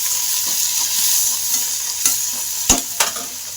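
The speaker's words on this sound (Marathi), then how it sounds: "कांदा झाला लाल, टमाटे टाकून घेतले, 2 घेतले टमाटे मिडियम आकाराचे." Chopped onions fried until reddish, with two medium tomatoes just added, stir and sizzle in a hot pan. Steady frying hiss runs throughout, broken by several sharp scraping clatters of stirring near the end.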